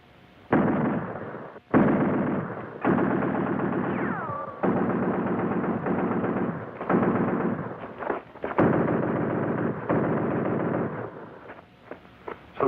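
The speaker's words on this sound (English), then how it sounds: "Fire a few rounds." Sustained bursts of machine-gun fire from a war film, loud and near, rattling in long continuous volleys separated by brief pauses.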